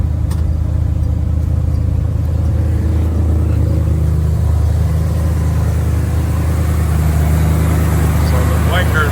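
A 1974 Ford Bronco engine idles steadily and up close, a constant low rumble with no revving that holds unchanged throughout.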